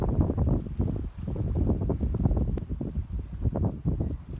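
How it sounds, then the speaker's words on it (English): Strong gusty wind roars against the microphone on the shore while bass fishing, with a rough, fluttering low rumble that dips briefly before picking up again. "It's probably a touch windy"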